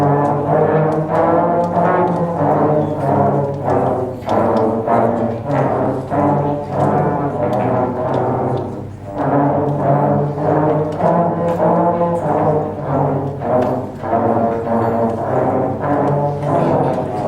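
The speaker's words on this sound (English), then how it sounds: "when they plug their mouthpiece into the trombone, that instrument turns and amplifies that buzz into the sound like this" A section of trombones plays Ode to Joy at a winter school recital, a steady run of loud, buzzy brass notes in a simple rhythmic melody, close and continuous with one short breath pause midway.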